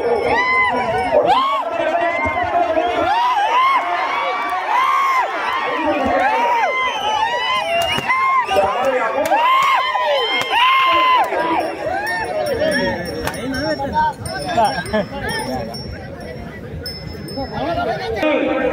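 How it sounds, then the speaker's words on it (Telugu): A crowd at a bull pulling competition, likely an eighth-pair class event in Jogulamba Gadwal, cheers and chatters loudly and continuously, with excited shouts rising and falling throughout. "ఒకసారి అందరూ గట్టిగా చప్పట్లు వినిపించు"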